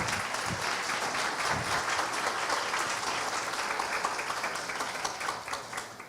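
An audience at a cannabis research panel event claps steadily and densely in sustained applause for a speaker being introduced. The applause fills the room evenly and begins to fade slightly at the end.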